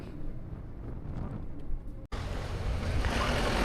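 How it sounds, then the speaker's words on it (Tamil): Loud, steady wind roar buffeting the microphone in the Kadambur hill forests of Sathyamangalam Tiger Reserve, with a brief dropout midway before the rushing resumes even stronger; no voices. "காற்று பயங்கரமாக இருக்குது, ஸோ நாய்ஸியாக இருக்கும்னு நினைக்கிறேன்."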